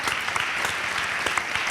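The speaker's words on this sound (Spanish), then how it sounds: "un aplauso para él, por estudiar" Dense crowd applause fills the space, a steady wash of many hands clapping at an interview event, loud and continuous throughout with no voices on top.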